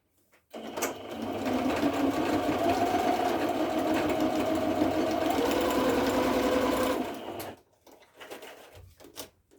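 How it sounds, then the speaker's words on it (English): A sewing machine runs in one continuous stitching burst for about seven seconds, steady and close, followed by a few quiet handling clicks. "I'm going over to sewing machine"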